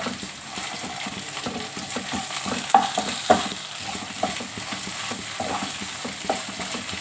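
Onions fry with green chillies and ginger-garlic paste in a pan with a close, steady sizzle, punctuated by a rhythmic series of spoon scrapes and a few sharper knocks against the pan as they are stirred.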